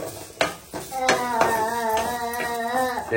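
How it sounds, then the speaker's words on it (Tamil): Grated coconut dry-roasts in a pan, with a spatula scraping and clinking against the metal in irregular strokes. A faint crackle runs underneath, and a thin tonal hum carries through the middle. "சோ தேங்காயும் வறுத்துடலாம் ஃப்ரெண்ட்ஸ்"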